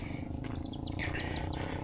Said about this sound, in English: I love this area because there's plenty of birds